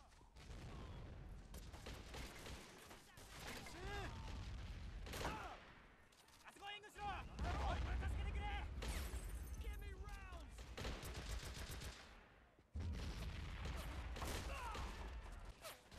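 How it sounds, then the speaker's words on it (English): Mortar fire and explosions in the World War II strategy game Men of War: Assault Squad, set on Okinawa, come as dense bursts of gunfire and booms across the scene, with players talking over the battle. "We're getting shot at by mortar."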